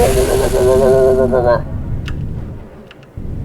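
A voice mimics the warbling Gegno spaceship engines from the game Endless Sky with a wavering, pulsing hum for about a second and a half, then fades into background noise with faint clicks.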